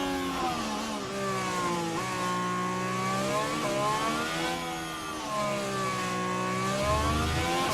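Formula 1 race car engines whine loudly in the F1 Manager 24 video game at the Monaco street circuit, a continuous high-revving drone with rising and falling pitch as cars accelerate and shift.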